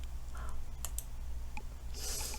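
A computer mouse clicking on a hyperlink, a few sharp isolated clicks close by over a steady background hum, with no talk.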